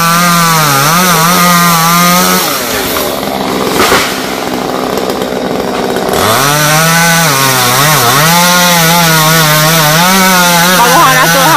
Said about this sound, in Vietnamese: Cưa toàn những nhánh lớn lớn.